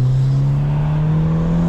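A Fiat Strada pickup fitted with 205 tyres revs in second gear, its engine holding a loud, steady, rising drone close to the microphone with no talk over it.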